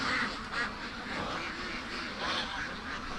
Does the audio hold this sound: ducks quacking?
yes